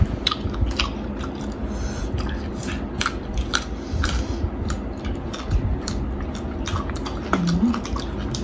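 Crunchy boiled apple snails with dipping sauce are chewed close to the mic, a steady run of crisp bites and wet chewing with irregular clicks, fairly quiet with no talking.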